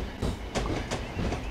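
Steam train rolling along in a train simulator game, a steady heavy rumble with a rhythmic clickety-clack of wheels over rail joints, loud and continuous.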